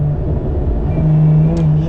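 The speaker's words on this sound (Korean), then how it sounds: "다운시프팅이 들어갔을 때 그러면서 확 올라가게 되는 이 엔진의 회전수, 그러면서 같이 들려오는 이 하이소프라노의 이 신경질적인 사운드" A Lotus Emira V6 sports car engine revs up sharply on an automatic downshift, a loud, close engine note whose pitch climbs and holds for a moment.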